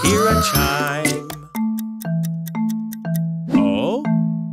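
A chime from a children's cartoon nursery-rhyme song about freezing fruit for fresh fruit ice cream: after a burst of singing, a steady run of ringing, sustained bell-like tones repeats in an even rhythm, loud and clear.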